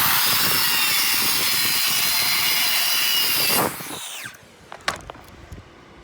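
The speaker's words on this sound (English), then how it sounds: "Now I'll cut that, and that'll sit right on top of the rafter." A saw cuts a wooden rafter piece for a curved roof frame, running loud and steady for a few seconds before stopping abruptly, followed by a few light knocks.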